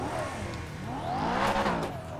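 A Lamborghini Huracan engine in the video game GTA 5 revs and whines through rising and falling pitch, loud and close, with a brief tire squeal as it accelerates. No voices.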